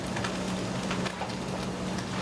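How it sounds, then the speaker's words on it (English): Frico cheese crackling and sizzling in a hot pan while cooking for risotto Milanese, a steady dense crackle with scattered pops over a low hum, close and continuous throughout. "So I hear my frico, it's crackling"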